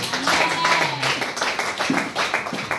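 A church congregation claps together for the Lord during a service, the hands striking in a brisk, even rhythm of many close, overlapping claps that fill the room.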